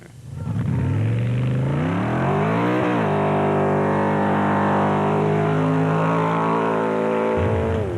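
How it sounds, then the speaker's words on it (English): An Audi-engined off-road race buggy competes in the Toyota 1000 desert race, its engine loud and close, revving and climbing through gears with rising harmonic tones, briefly dipping on a shift before pulling hard again. "Colin Matthews and Jannie Erasmus in their bat powered by an Audi engine piled on the pressure on the big name teams"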